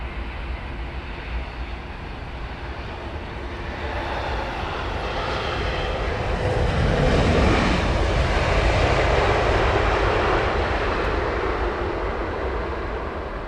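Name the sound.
British Airways Boeing 777 landing at Heathrow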